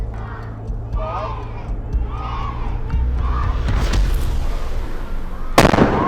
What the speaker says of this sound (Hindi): A cannon is fired every day sharp at 12 noon